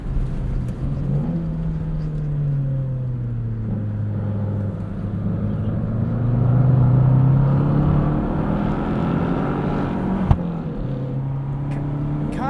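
A 2018 Fiat 500C Abarth's engine hums through laps on a track, its pitch dipping and rising with the throttle before a louder, strained surge, then easing off, with a small knock near the end.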